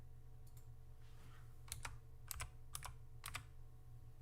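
Fingers type a quick search on a computer keyboard in bursts of clicky keystrokes, with clusters of taps near the mic over a steady low hum and no talking.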